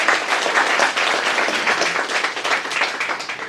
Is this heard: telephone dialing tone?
no